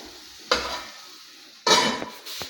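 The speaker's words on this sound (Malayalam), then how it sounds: "അതിലേക്ക് കുറച്ച് കറിവേപ്പ് ഞാൻ ഇടുന്നുണ്ട്" Curry leaves drop into hot oil in a pan, giving two sharp bursts of crackling sizzle separated by a quieter simmer, close up and with no voices.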